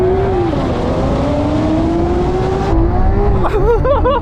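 Lamborghini Aventador cars accelerate hard in a drag race, engines droning loud and steady with rising pitch, followed by a warbling, wavering engine note near the end.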